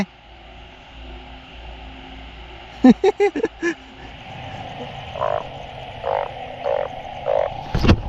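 Banded bullfrogs croaking at night, a quick run of loud close croaks followed by several spaced, softer calls over a low background hum, with a sharp knock at the end.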